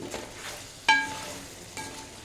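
A ladle stirs chicken fry coated in garam masala and chicken masala powder in a pan, with soft frying underneath and one sharp metallic clink midway, then a lighter scrape.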